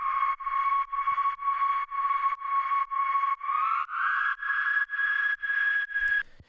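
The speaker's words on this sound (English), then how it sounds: "So this is a flute that I sampled." A sampled lo-fi flute played in Ableton Simpler repeats a pulsing sustained note in a steady chopped rhythm, gliding up in pitch midway, soft and alone.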